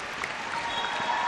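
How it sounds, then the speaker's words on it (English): An arena crowd at an ASEAN Basketball League game claps in a brief, steady burst of applause, many hands at once, filling the space with no speech over it. "It's a nice round of applause."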